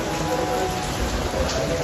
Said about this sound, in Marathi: पाऊस आहे ना? खूप पाऊस आहे.